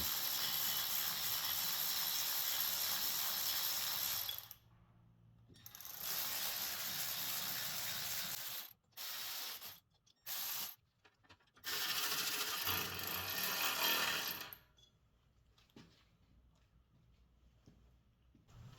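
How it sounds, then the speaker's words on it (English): An electric ratchet threads cylinder head bolts on a Wright mower, giving fast mechanical whirring bursts. Several long runs and a few short ones are separated by silent gaps, and the sound is close and fairly loud, with no voices. "I'm using the electric ratchet only to thread the bolts in."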